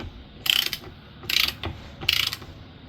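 A ratchet tightens bolts on a raised Jeep, three short bursts of rapid clicking, close and distinct, separated by brief quiet gaps.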